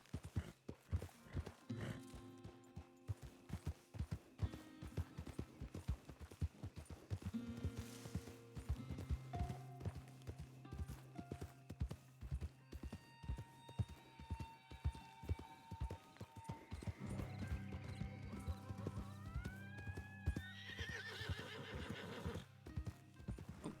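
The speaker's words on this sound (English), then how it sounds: "Red Dead horsies are just too good." Horse in the Red Dead (RedM) game, with rhythmic clip-clop hooves, whinnies and neighs rising and falling, over soft background music.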